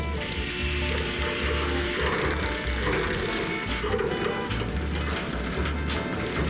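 A skid steer with a Bradco Paladin Ground Shark extreme duty brush cutter mower grinds through a tree stump, a loud, steady mechanical roar with dense rattling, clattering chips and wood debris throughout.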